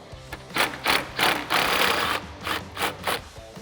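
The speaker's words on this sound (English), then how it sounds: "I'm just gonna use a short extension and a 10mm socket and remove that" A ratchet with a short extension and 10mm socket works a headlight bolt loose on a 2015-2017 Ford F150, giving repeated bursts of rapid clicking, one longer run in the middle, then several quicker strokes, close and clear.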